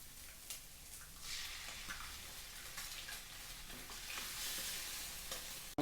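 Mixed vegetables and egg stir-fry in hot oil for fried rice, with a continuous hiss of sizzling and repeated scraping of a spatula against the pan, fairly soft and even throughout.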